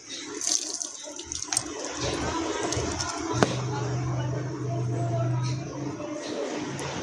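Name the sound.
pouring out water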